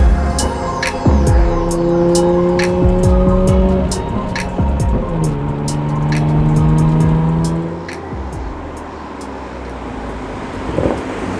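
A modified 2020 Toyota Supra driving: the engine drones and throbs from inside the car, its pitch climbing and dropping through several gear changes, with scattered clicks and ticks over the hum.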